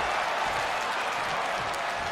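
An energized wrestling crowd in an Atlanta arena cheers and applauds in a dense, steady roar of clapping and shouting that holds throughout.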